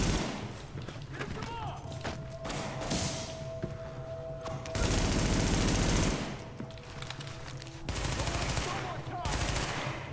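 Gunfire in the video game Tom Clancy's The Division, with rapid bursts of automatic fire and sharp thuds in loud volleys amid battle noise, while a player talks over the action.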